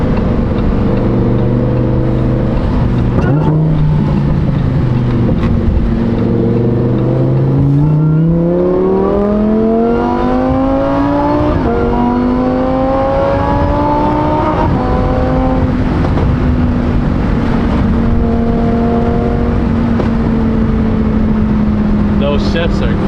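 A Lamborghini Huracan fitted with a race exhaust, heard loud from inside the cabin, screams up through the revs with abrupt, cracking gear shifts, and voices come and go beneath the engine.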